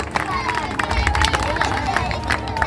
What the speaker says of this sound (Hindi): एक बार सभी को जोरदार तालियां एक बार होनी चाहिए अध्यक्ष महोदय के लिए।